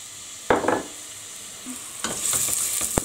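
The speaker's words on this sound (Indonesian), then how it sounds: "Aku ada kasih minyak zaitun dan sekarang kita akan tumis si bawang bombaynya" Chopped onion sautéing in olive oil in a pan for a Tunisian dish, with close stirring scrapes and clatter over a soft background sizzle that grows stronger toward the end, no talking.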